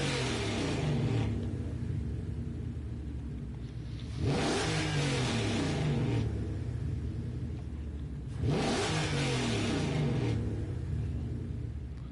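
A Mustang GR road car in Gran Turismo 7 revs hard three times in a row, each burst climbing sharply then settling back to a throaty idle, loud and close with no voices.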